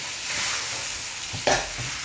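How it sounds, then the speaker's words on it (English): Coconut milk simmering in a pan with curried chicken for a Jamaican-style curry, giving a steady soft sizzle with a sharper stir or scrape near the middle, close by and moderately quiet, with no voices. "I'm going to add my coconut milk to the pan."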